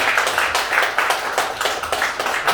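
An audience at a concert claps in a big round for a performer, with brisk, even bursts of many hands in a steady rhythm, lively and close.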